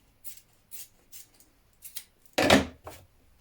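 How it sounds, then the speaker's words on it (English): Scissors trim excess fabric from the hem of a New Look 6197 shirt, giving several quiet, separate snips followed by one louder, longer cut near the end. "Then you're going to trim away the excess."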